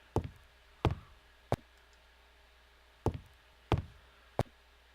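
Knocking on a wooden cabin door in the video game Serena, two sets of three sharp knocks separated by a short pause, clear and close over a quiet background.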